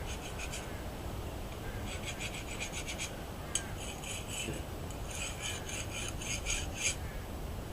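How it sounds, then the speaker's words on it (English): A metal file skates across a hardened, hand-forged steel dagger blade in short rapid rasping strokes, grouped in bursts of quick scrapes against a constant low background hiss. "the file skating over it, which means it's harder than the file, because then the file cannot cut into it"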